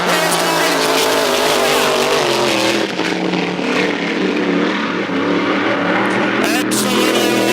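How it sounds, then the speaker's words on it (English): A GP1 hydroplane race boat engine roars continuously during warm-up on a lake course, loud and sustained with shifting pitch, under a commentator's voice. "Now he's starting to push that pot."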